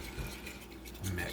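A spoon stirs a melted chocolate mixture in a bowl, with soft scraping and clinking against the dish in a short close burst, stronger near the end.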